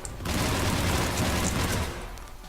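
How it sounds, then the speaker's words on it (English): Continuous barrage of explosions and gunfire from the sci-fi shooter Mass Effect, loud and dense for about two seconds before easing off, no voices. "Those are grenades"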